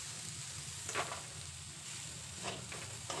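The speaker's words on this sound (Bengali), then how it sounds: "ডালটা ভাজা হয়ে গেছে" Washed, dried lentils (dal) frying in a pan for khichuri give a faint steady sizzle with a few brief stirring scrapes, near and alone without talk.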